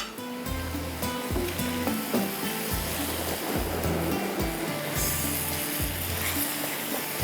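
Shrimp and rice sizzle in a pan as they are stirred, a loud, steady frying hiss with repeated scraping strokes and low thumps in a regular rhythm, with background music playing.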